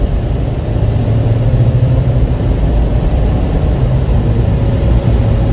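A 2017 Ford F450 XLT tow truck with a Jerr-Dan self-loader wheel lift on a test drive: a steady, low engine rumble with road noise, smooth and unbroken with no talk over it.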